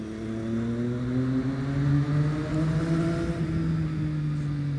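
A Triumph Street Triple 675R motorcycle engine pulls smoothly under load while riding, its rising and steady harmonic whine close and continuous over wind rush, with no voices.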